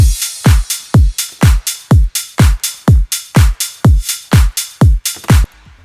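A 90s house drum loop built in Ableton thumps along with punchy kicks and crisp hits in a steady, even rhythm, loud and upfront with nothing else over it.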